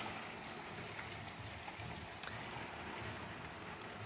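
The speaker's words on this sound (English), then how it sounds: "it's raining right about now" Rain falls steadily in Grenada ahead of Hurricane Beryl, a soft, even hiss of drops on surfaces with a few sharper nearby drips, heard alone without voices.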